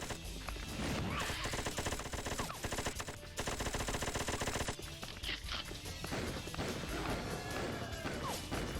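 Loud bursts of rapid gunfire from slow-bullet guns in the Flashpoint video game, with dense repeated shots in long volleys and crashing impacts between them.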